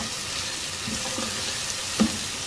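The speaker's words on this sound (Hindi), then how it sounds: "1-2 मिनट इसको फ्राई करेंगे चीज़ों को" Chopped tomato, a chicken stock cube and whole green chilies fry in a pan, giving a steady close sizzle with a brief stirring clatter near the end.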